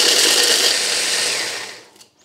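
A food processor or grinder pulverises María biscuits into crumbs, a loud steady motorised whir with gritty rattling that runs on for almost two seconds, then winds down and stops.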